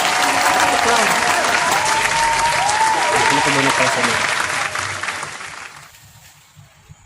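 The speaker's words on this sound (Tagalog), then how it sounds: "Oda oy, palakpak." A small group claps in a lively, dense burst while a voice talks over it, then the clapping thins and fades out toward the end.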